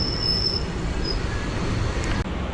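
A train moving near a station on a route around Nagercoil, heard as a steady broad rumble with faint wheel squeal at moments and a brief dip near the end, with no talking.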